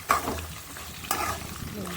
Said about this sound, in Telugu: పోపు బీన్స్ అన్నీ వేగిపోయిన తర్వాత ఉల్లిపాయ పచ్చిమిర్చి